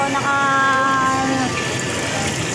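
Small waterfall splashing into a catfish pond, a close, steady rushing gush of falling water with a brief tonal whine over it early on.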